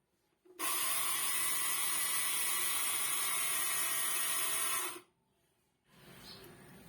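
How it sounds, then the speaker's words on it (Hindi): Electric kitchen grinder whirring through mustard seeds in its cup, a steady loud high-pitched buzz for about four seconds before cutting off abruptly, then faint room noise. "इसको मैंने डाल दिया है ग्राइंडर के कप में। और अब मैं इसको करूँगा ग्राइंड"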